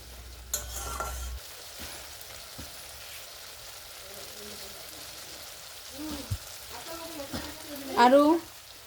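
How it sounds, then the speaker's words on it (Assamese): Brinjal curry gravy fries in a pan while a spoon stirs it, giving a faint steady sizzle with a few scraping strokes and a louder clatter of stirring near the end. "আৰু বেঙেনাখিনিৰ সৈতে গ্ৰেভিখিনি মই 1 মিনিট টাইম জাল কৰি ল'ম।"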